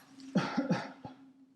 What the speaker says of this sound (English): breathe all the way in, and cough